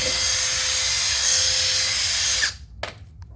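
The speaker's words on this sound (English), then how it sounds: "It's got to be one of the smoothest, if not the smoother drills that you're ever going to get your hands on." A Makita XGT 40 V cordless drill runs at a steady high whine, loud and close, then cuts off abruptly, leaving a couple of faint clicks.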